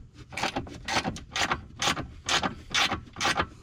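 A hand ratchet loosening 13 millimeter bolts on the air box of a 2022 Ford 6.7 Powerstroke diesel during a Banks Ram Air intake install, with about eight even bursts of clicking, close and alone.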